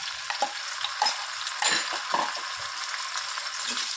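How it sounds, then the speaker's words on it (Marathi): Okra masala frying in a pan, stirred by hand: steady broad sizzle throughout with soft scraping strokes every half second or so, close and moderately loud, no voices. "असं हलवून घ्यायचे आहेत कारण की पूर्ण सगळ्याला शिजायला हवे भेंडी सगळीकडला"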